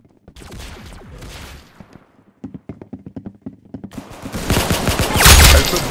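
Gunfire in a mobile video game crackles in rapid rhythmic bursts, a loud stretch of repeated shots building to a dense, noisy volley at the end.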